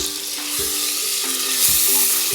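Chilli powder and other spices frying in oil with salt for a potato and basmati rice khichuri, a loud, steady sizzle with regular scraping stirs about every half second, close up and without talk.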